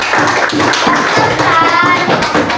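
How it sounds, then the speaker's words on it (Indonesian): Classroom applause for a student group, loud, close and sustained, with many hands clapping together in a dense, steady wash from start to finish. "kasih aplaus untuk kelompok mie instan rebus"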